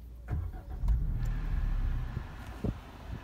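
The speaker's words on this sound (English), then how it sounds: "really nice sounding motor actually" A 2018 Suzuki Swift Sport is push-button started, a brief crank catching into a steady idle heard from inside the car, followed by a click.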